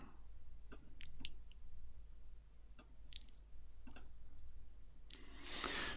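A computer mouse clicks sharply up close, about six separate clicks spaced irregularly across several seconds, followed by a brief rustling burst at the end, against a quiet background.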